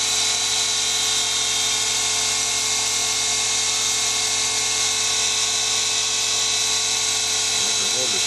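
A motor fitted with a belt-conversion overdrive runs steadily at speed during an RPM test, giving a constant high-pitched whine with strong tonal hum that holds even throughout, with no pauses.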